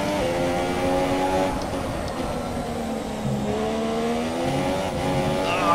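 A Formula 1 race car in F1 2017 at the Russian Grand Prix climbs through revs on throttle, its loud engine whine rising steadily with quick gear shifts, continuous and up close.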